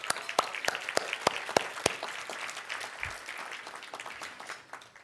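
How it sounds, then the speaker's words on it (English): Scattered applause at a community service awards event, a few sharp individual claps at first over a soft wash of clapping that gradually fades. "let's give them a round of applause as well"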